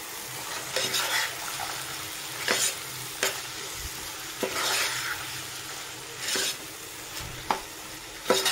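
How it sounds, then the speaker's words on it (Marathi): Soaked large, thick cowpeas sizzle in hot oil in a pan, a steady hiss broken by repeated scraping stirs and clinks, close and fairly loud, with no voices. "आता यामध्ये आपण ही चवळी टाकूया।"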